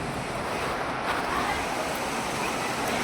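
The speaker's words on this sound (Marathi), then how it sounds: "बघा किती पाऊस पडायला लागलाय, पार गारा पडायला लागल्यात." Heavy rain mixed with hail pours down steadily, with runoff water rushing along a road; a dense, continuous roar fills the scene close by without a break.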